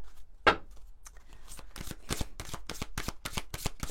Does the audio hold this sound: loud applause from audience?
no